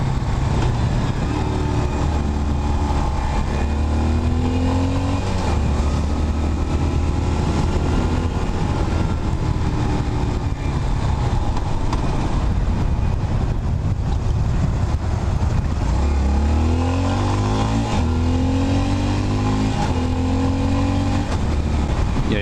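A Yamaha SR400 single-cylinder motorcycle engine revs loud and close, rising and falling in pitch over steady wind noise, with no talk.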